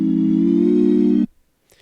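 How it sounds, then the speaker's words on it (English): A bottle sample is played melodically through a Simpler device on an Ableton Push 3, giving one steady, hollow tone that holds for just over a second and then cuts off cleanly. "Believe it or not, that is the sound of a bottle."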